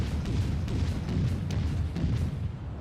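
Broadside gunfire from the cruiser USS Charleston (C-22) in the naval combat game World of Warships. A dense, loud, continuous low rumble of heavy gun blasts with repeated booming thuds rolls on for about three seconds.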